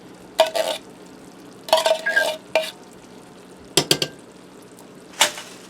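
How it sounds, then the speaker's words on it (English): Chili is scraped into a skillet of pasta and stirred, with several bursts of spoon scraping against the pan and soft wet squelching, close up, separated by quiet pauses. "So you're going to get all your chili in there."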